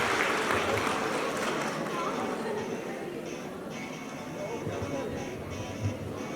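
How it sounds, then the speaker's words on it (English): Crowd applause at a college event, a dense, continuous wash of clapping mixed with chatter and murmuring voices throughout. "Huge round of applause for him."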